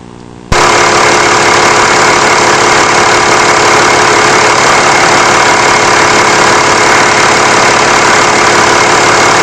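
A Mercedes E320 CDI diesel engine catches abruptly after a short quiet moment and then runs at a loud, steady idle with a dense, clattering diesel rumble close by.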